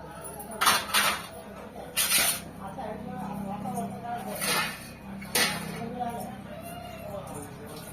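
A kadai and other metal pots are lifted and handled at a small food shop after cooking, giving several loud clanks and clinks spaced over a few seconds, with a voice talking throughout.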